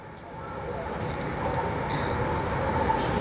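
Steady rumble of an LRT train at Ninoy Aquino station, a broad rolling rail noise that swells slightly and holds constant, with no talk over it.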